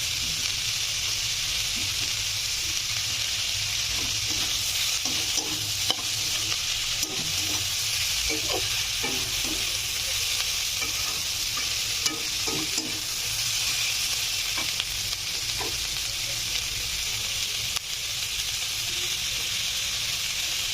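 Tomatoes hit a pan of frying Maggi noodles with egg and chicken, giving a steady loud sizzle and hiss with occasional spoon scrapes and clicks throughout.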